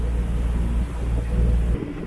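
A new whale-watching boat pulls out of Shitiping fishing harbour in Hualien on a calm, sunny sea, its engine a steady low rumble with water wash that cuts off sharply near the end.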